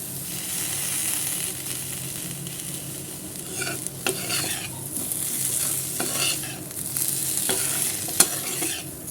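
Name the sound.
stirring taro root fry (seppankizhangu varuval) in a pan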